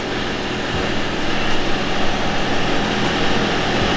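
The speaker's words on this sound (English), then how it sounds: "excuse the noise, that's the compressor just charging up." An air compressor charging up indoors during a three-way fridge repair, a steady loud motor drone and hiss that runs unbroken and close throughout.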